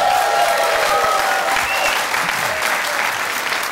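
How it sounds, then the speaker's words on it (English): Studio audience applause on a television dating show, a loud full burst of clapping from the start that tapers slightly toward the end, with a few voices faintly audible underneath. "Give them a nice round of applause."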